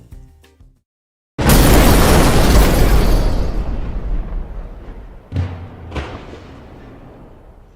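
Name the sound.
rendered explosion visual effect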